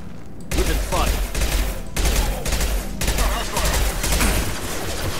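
Dense automatic gunfire from a sci-fi shooter video game, Mass Effect 2, loud continuous bursts of rapid shots with brief breaks, filling the whole stretch.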